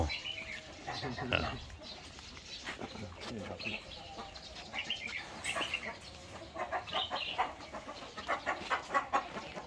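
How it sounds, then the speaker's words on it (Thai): Fighting cocks in a backyard coop cluck and call intermittently at moderate distance, the bird sounds mixed with people talking nearby throughout. "ไก่ชนครับพี่ ไก่ชนโอไก่นักสู้"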